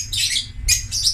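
A pet bird being bathed gives short bright calls in bursts, three quick squawking chirps up close over a low background hum.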